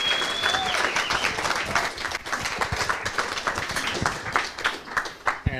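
Audience applause at a live performance show, dense steady clapping from a crowd with a few cheers mixed in, loud and sustained throughout with a brief whistle near the start.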